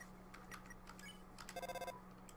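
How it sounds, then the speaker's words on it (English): A telephone rings in the video game Undertale, giving a short burst of bright, rapid ringing among quiet game blips and chimes over a low hum. "Nobody picks up the phone."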